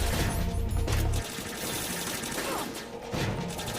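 Gunfire in a Metal Gear Solid game on max difficulty, dense bursts of shots in a loud firefight with a heavy low thump early on, continuing as a steady busy clatter throughout.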